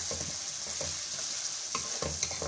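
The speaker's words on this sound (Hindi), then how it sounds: "मैंने अच्छी तरह से गोश्त को भून लिया है।" Mutton browns with garlic in a pot for biryani, a close steady sizzle broken by repeated spoon stirring scrapes at an uneven rhythm.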